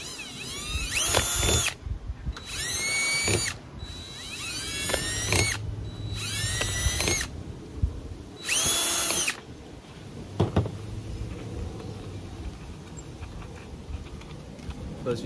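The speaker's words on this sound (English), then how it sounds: "I'm gonna drill my holes first." A power drill bores holes in a plastic bottle, whirring in several short bursts with pauses between, its pitch rising as each burst spins up, with handling noise in the gaps.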